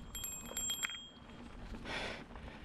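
A small bicycle bell on a mountain bike rings faintly on a trail: a quick series of light metallic dings, then a soft rushing noise from riding.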